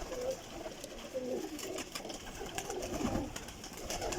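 Pet flying pigeons perched above and below in their loft coo steadily, a soft, continuous murmuring chorus of several birds with no voices over it.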